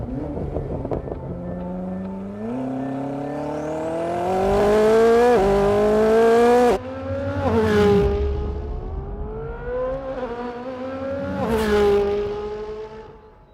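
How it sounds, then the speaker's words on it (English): Race car being driven at Gotland Ring in Sweden, its engine revving up and down in rising, harmonic-rich sweeps through gear changes and slides, loud and close with no speech. "you just keep the car on a very nice slide"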